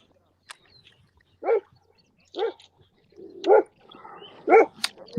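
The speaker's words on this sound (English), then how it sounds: "That dog is not liking what's going on." A dog barks four times at roughly one-second intervals, close and fairly loud, each bark short and sharp against an otherwise quiet background.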